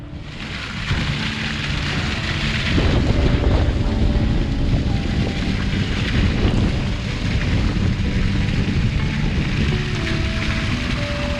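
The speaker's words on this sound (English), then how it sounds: "you'll see it's blowing a gale" Gale-force wind roars steadily and loudly across the microphone, a dense buffeting rush with constant gusting noise and no talk.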